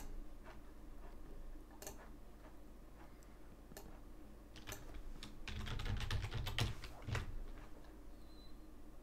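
Steady typing on a computer keyboard, a run of soft key clicks with a few sharper taps, growing busier and louder toward the end with no voices.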